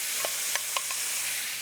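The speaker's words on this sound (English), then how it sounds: "Get a little sizzle going there." Steady broadband sizzle of tomatoes frying in a hot pan, with a few soft clicks of stirring near the start.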